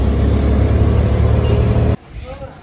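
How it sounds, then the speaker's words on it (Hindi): A garbage truck rumbles past nearby, a loud low engine roar that holds steady and then cuts off abruptly, leaving faint background noise. "कचरे की गाड़ी जा रही है तो मास्क लगा रखा।"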